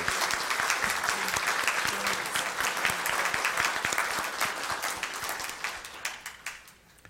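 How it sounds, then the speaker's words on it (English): A roomful of members at a retirees' association annual general meeting applauds newly elected volunteers, dense even clapping that holds steady before thinning and fading out toward the end. "Please join me with a warm round of applause for these dedicated and newly elected volunteers."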